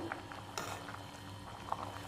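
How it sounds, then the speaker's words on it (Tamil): Steady, low bubbling of moringa leaf soup with pepper and cumin boiling in a pot, continuous and close, with a faint hum running underneath. "மிளகு ஜீரகம் போட்டு ஒரு அஞ்சு நிமிஷம் கொதிக்கட்டும்"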